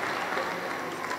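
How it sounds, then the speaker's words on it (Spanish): Congregation applauding during a Sunday Pentecostal church service in Peru, a steady wash of many hands clapping throughout, moderately loud and close, with no talk over it. "Aplauso para el Señor Jesús."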